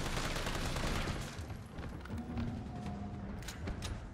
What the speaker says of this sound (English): Shoot him quickly in the face before he kills you.